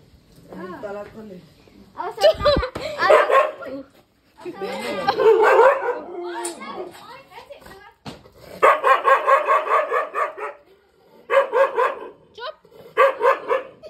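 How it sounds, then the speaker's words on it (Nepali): A dog barks in repeated bursts of yips and bow-wows at home, loud and close, with a few whimpering sounds, alternating with stretches of people talking. "अब कुकुरले भाउ भाउ गर्छ"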